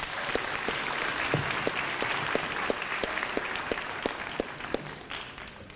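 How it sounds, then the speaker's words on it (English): At a 2017 Big Picture Learning Academy graduation in Camden, the audience applauds the graduating students with a steady, full round of clapping, punctuated by regular sharp claps nearby, tapering slightly at the end. "they deserve another round of applause"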